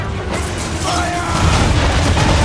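Ship cannons booming in an Assassin's Creed 3 naval battle, a heavy sustained rumble of cannon fire with the roar building louder toward the end.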